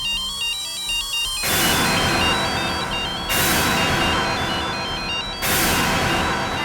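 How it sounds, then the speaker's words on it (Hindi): A telephone rings in repeated bursts after a call is placed, each electronic ring loud and close, with brief pauses between rings and no talking over it. "अरे मैं फोन करता हूँ।"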